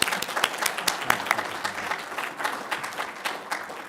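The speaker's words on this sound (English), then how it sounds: "Turn page after applause" Audience applause at a research showcase plenary session, dense overlapping claps forming a steady broadband wash with a few sharper individual claps standing out, fairly close and continuous throughout.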